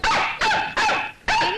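A pack of dogs barking nearby, four loud sharp barks spaced about evenly with short gaps between them.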